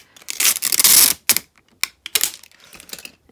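Packing tape being pulled off its roll for wrapping Kpop albums for shipping, a few sharp crackling rips and short tearing bursts, close and loud, separated by brief pauses.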